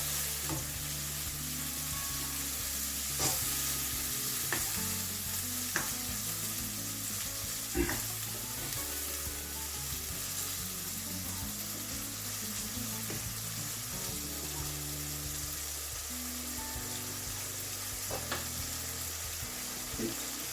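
Lamb and chicken mince with black pepper and spices are mixed in a karahi, a faint continuous sizzle with occasional light clicks of the spoon, mostly buried under steady background music.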